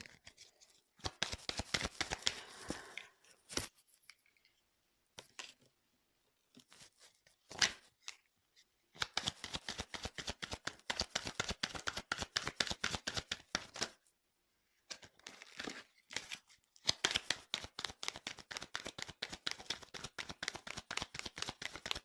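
Tarot cards shuffled in rapid riffling bursts of dense crisp snaps, broken by short pauses and scattered single flicks, close and alone without talking.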